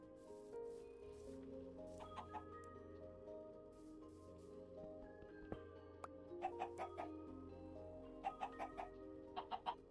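Chickens in the Minecraft video game cluck in short repeated bursts, clustered toward the end over a steady background music bed, fairly quiet overall with no talking.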